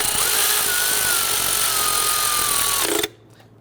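A power tool tightens a bolt on the ignition coil bracket of a 2011-2017 Nissan Quest 3.5L V6, giving a steady, close whirring drone for about three seconds before it abruptly stops.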